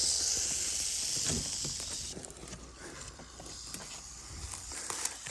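Rattlesnake hidden beneath a board in the field gives a faint, continuous buzzing rattle at close range, alongside rustling and soft shuffling footsteps.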